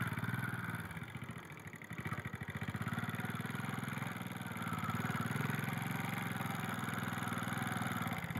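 A motorcycle engine runs steadily during bike-riding training, a mid-pitched throbbing drone with some clatter and slight swells in revving, close and continuous throughout.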